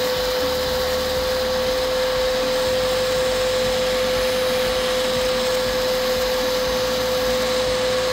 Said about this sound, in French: On voit vraiment la crasse qui est aspirée.